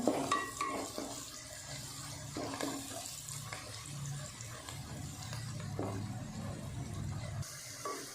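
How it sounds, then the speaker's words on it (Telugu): Onions frying and being stirred in a pan while cooking chicken fry, a continuous watery sizzle with soft scraping and occasional clinks of the spoon, close and fairly quiet, without voices. "బాగా ఎర్రగా అయ్యేంత వరకు ఉల్లిపాయలు బాగా వేపుకోవాలి."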